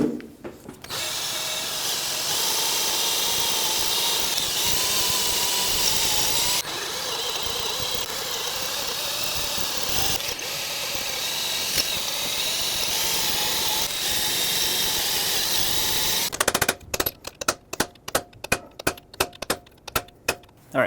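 A power drill whines steadily at close range for a long stretch, drilling out a thermostat housing on a Ford Ranger 4.0L V6, pitch shifting slightly, followed by a series of quick ratcheting clicks.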